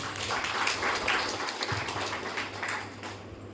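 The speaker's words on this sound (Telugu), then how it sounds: "ఇక్కడ మీరు గట్టిగా క్లాప్స్ ఇస్తే గుడ్ న్యూస్ చెప్తానండి" Sustained audience applause fills a meeting hall, a dense, steady patter of many hands clapping at moderate volume for the whole stretch without pause.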